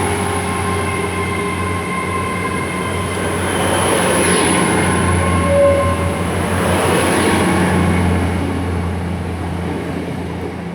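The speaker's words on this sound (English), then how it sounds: "now departing out is 802-301, departing from Howden." Class 802 train, unit 802-301, pulling out of Howden station, a steady broad rumble of wheels and traction building and easing over about ten seconds with a faint squeal partway, fairly close and continuous with no voices.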